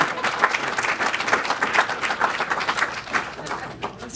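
Audience applause at a chamber of commerce awards dinner, a steady wash of many hands clapping with a few louder claps standing out, while a voice speaks faintly underneath.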